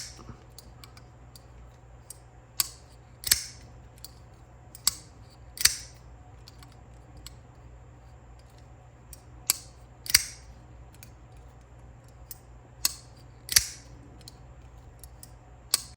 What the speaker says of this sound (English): So hopefully you heard that clicking.